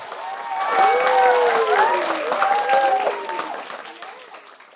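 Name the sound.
audience applause welcoming author A.F. Steadman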